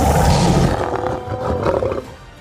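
A lion roars loudly and close, one long powerful roar with rough low rumbling and a harsh throaty texture that carries through most of the short stretch, fading slightly toward the end.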